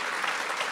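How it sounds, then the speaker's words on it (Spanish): A church congregation applauds during a Spanish-language sermon, a brief burst of dense, even clapping from many hands. "Y dale un aplauso al Señor"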